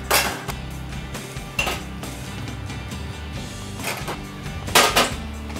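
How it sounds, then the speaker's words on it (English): Potatoes and sweet potatoes are mashed with masala in a pan for sweet potato pops, giving irregular metal knocks and clinks of a utensil against the pan, with scraping between the louder hits. "we are going to pretty much mash up the potatoes and the sweet potatoes with the masala in a pan."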